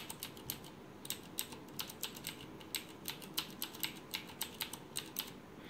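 Close, crisp clicking of typing on a Razer BlackWidow Ultimate 2013 mechanical keyboard, a quick irregular run of sharp keystrokes over a quiet room.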